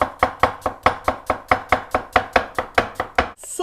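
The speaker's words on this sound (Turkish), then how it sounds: "Ortadan başta ikiye böldüm. Bunları ince ince doğruyorum." A knife chops a halved onion finely on a cutting board in a quick, even run of about fourteen sharp, close taps, with no voices.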